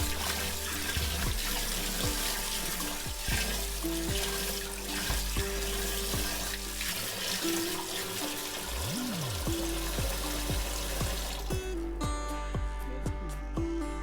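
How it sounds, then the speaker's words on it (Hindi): Tap water pours and trickles over rajma and chana dal in a bowl at a kitchen sink to soak them overnight, a steady running stream with intermittent clinks and knocks of the vessel throughout. "अब फिर से पानी डाल के इसको ओवरनाइट भिगो दूंगी।"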